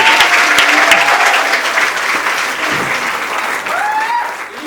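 A crowd at a Hindi comic poetry gathering gives loud, sustained applause to welcome poet Vaibhav Yadav. The clapping is dense and close, with faint tonal sounds under it, and it eases slightly toward the end.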